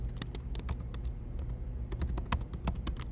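Rapid close clicking of keys on a computer keyboard as a short word is typed into a spreadsheet, with crisp irregular taps over a faint low hum.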